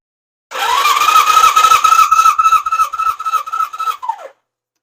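A 1977 Suzuki GS550 motorcycle engine cranked on the starter with the throttle held fully open, giving a steady rhythmic chugging under a whining starter motor for about four seconds before it winds down, loud and close.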